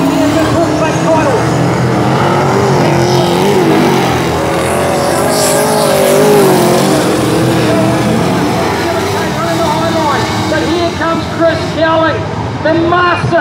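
Super saloon race cars roar around Meeanee speedway, their engines droning loud and steady as they run two wide, with a commentator talking excitedly over the noise.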